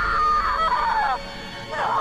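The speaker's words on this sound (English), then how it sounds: "Stop screaming!" A female character in the horror video game Until Dawn screams in shrill, wavering bursts, one long wail fading then a second cry rising near the end, loud and close over a low background.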